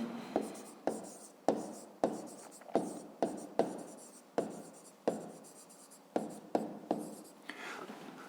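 Pen writing an answer in a school notebook during a fifth-grade maths exercise, heard as a run of close, crisp strokes and taps in an uneven rhythm, fairly quiet, with no talk.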